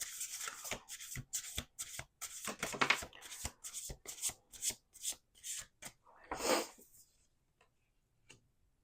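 Playing cards are shuffled up close in a quick run of crisp riffling bursts, then a pause and one faint final tap.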